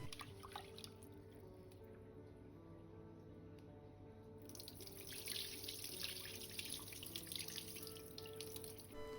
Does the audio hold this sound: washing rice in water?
yes